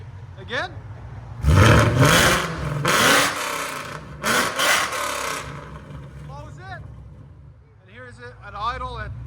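Supercharged 675 hp Roush GT V8 with valved mufflers open, revving hard in loud bursts that rise and fall twice, then settling to a lumpy idle as people talk nearby.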